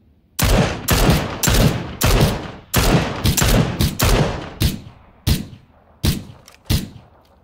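Loud, close gunfire in a battle-royale video game, a rapid series of sharp shots in quick bursts followed by a few spaced single cracks, with no talk over them.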